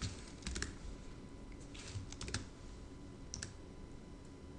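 Someone types on a computer keyboard, producing quiet, close bursts of quick key clicks separated by short pauses over a faint background hum.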